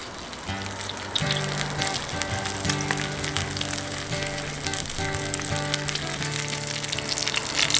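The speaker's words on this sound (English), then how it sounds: "That's when I dropped the bacon in." Bacon frying on a camp stove gives off a loud, steady, crackling sizzle that continues throughout over faint background music, with no talking.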